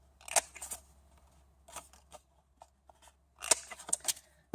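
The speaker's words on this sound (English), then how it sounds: "We're going to punch the corners of all of the layers of the card" Corner rounder punch clipping through stacked card layers of glimmer paper and thick and regular Whisper White cardstock: close, crisp crunching clicks in a few short clusters, with quiet gaps between and no voices.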